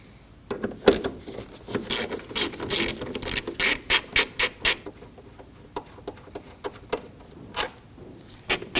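A ratchet rapidly clicks while removing 7mm bolts at the top of the air box inlet on a 2015-2024 Ford Edge 2.0L, with bursts of close, sharp pawl ticks, some quicker runs and pauses between them.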